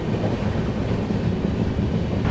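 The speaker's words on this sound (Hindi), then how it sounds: "चलिए दोस्तों, ट्रेन अपनी स्किप कर रही है गाज़ियाबाद जंक्शन" Garib Rath express train rushing through Ghaziabad Junction at speed: a loud, steady roar of wheels and rail noise close by, with continuous rumble and rattle throughout.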